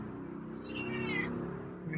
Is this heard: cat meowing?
yes